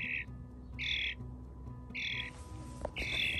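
A pet baby bird gives four loud, shrill squawking calls at a steady rhythm, close by, with short pauses between them and no talk.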